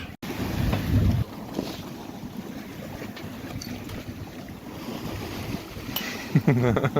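A sailboat under way in a rough, choppy sea, with strong wind roaring over the microphone and water rushing and slapping against the hull, loud and continuous throughout.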